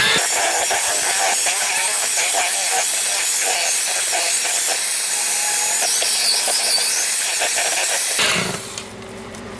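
Electric mixer beaters whipping heavy cream into butter in a home kitchen, a loud continuous whirring grind with a strained, laboring tone that cuts off near the end.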